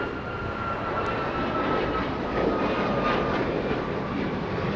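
A United Airlines Boeing 737 jet at Los Angeles International Airport, its engines a steady, broad roar that holds level and fairly near throughout, with no voices over it.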